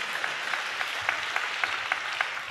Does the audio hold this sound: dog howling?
no